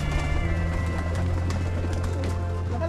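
Pigeon on a farm cooing in low, repeated throaty notes, close and clear over a faint background murmur.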